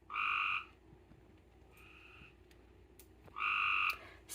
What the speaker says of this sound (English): there's a frog that is right outside our door